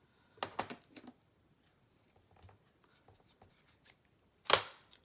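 Scissors snipping paper ephemera, a few quick sharp cuts early and one louder snip near the end, close and otherwise quiet.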